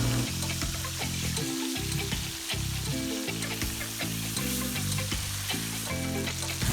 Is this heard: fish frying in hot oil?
yes